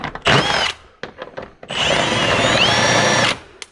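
Power drill backing out the bolts on a Ford F150 air dam, with two short loud bursts followed by a longer steady whine with a rising pitch, close by.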